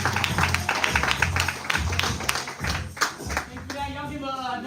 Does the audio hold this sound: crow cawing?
no